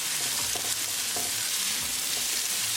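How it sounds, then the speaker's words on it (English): Onions sauté in a hot pan with a steady, close sizzle, broken by occasional scrapes and taps from a stirring utensil. "we're going to saute onion until they are nicely translucent"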